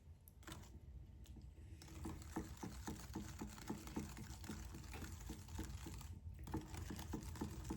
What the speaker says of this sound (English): Keep kind of whisking it until it's smooth.